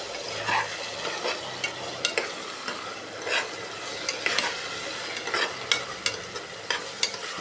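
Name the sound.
stirring salt into tomato masala frying in pan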